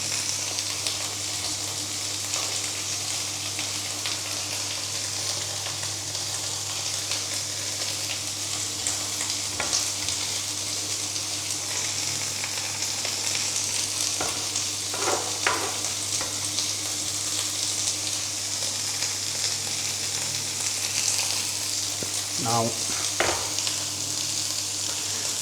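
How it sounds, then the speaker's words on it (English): Pork chops and mushrooms frying in butter in a pan in a hostel kitchen, a steady loud sizzle throughout with occasional clinks and stirring sounds. "your pork chops are sizzling away nicely, you want to add them to your pan of butter."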